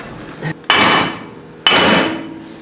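A 50-pound sledgehammer strikes metal twice on an off-road Bronco prerunner build. Each blow is a loud, close clang that rings out and decays for about a second, with a softer tap just before the first.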